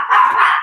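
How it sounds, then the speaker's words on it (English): A pet dog named Dr. Disco lets out a single loud, sustained bark close up, with no talking over it. "My dog is barking."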